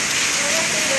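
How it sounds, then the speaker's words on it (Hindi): An unusually heavy downpour with strong wind makes a dense, continuous hiss that fills the whole moment, with a voice faintly present in the roar. "हमारे इलाके में तो कभी ऐसी बारिश कभी पहले नहीं हुई"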